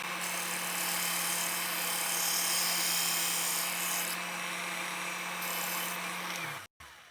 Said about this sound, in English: Now we'll take this to the belt sander and get it sanded right up to our line.